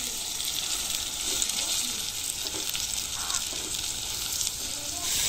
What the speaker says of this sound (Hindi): अभी हम इसमें डालेंगे टमाटर जो कि हमने पहले से काट के रखे हुए थे।